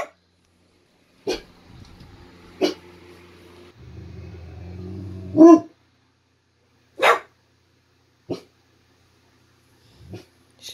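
Dog growling at a bedroom fan at night, giving several short separate barks and huffs spaced a second or two apart, with a low growl rumbling in between.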